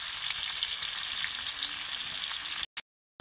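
Food sizzles and fries steadily in a pan as turmeric powder is stirred in, a dense continuous crackle close up, then a sudden brief cutout near the end before the sizzle returns.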